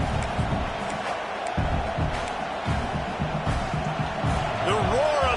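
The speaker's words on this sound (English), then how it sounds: "The roar of the crowd trying to fuel this defense to keep them pinned in their own end" A roaring crowd at an LSU American football game fills the stadium with a steady, dense wall of noise, while a commentator talks over it throughout.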